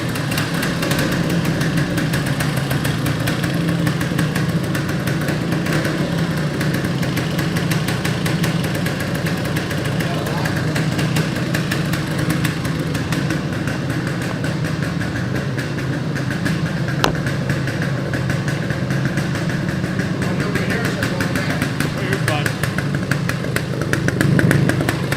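A 1975 Yamaha DT400 motorcycle engine idles steadily and close by, giving a continuous, even mechanical rumble that holds for the whole stretch without revving.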